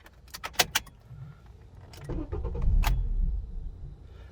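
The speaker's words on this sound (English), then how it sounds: "The car acts like it wants to turn on and it just shuts right off." A 2008 Honda Accord, started with a broken replacement key: keys jangle briefly, then the engine cranks over in a low, rising rumble and quickly cuts out.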